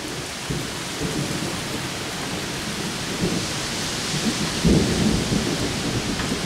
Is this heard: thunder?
yes